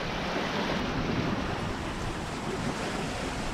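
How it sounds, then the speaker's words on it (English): Steady broadband rush of sea swells and wind noise around a sailing boat crossing open water between Caribbean islands in rough seas, continuous and loud with no voices. "Big swells in between the islands."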